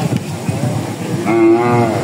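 A Sindhi bull lows in a long, loud, close moo at a village cattle market before Qurbani, rising after a stretch of market noise.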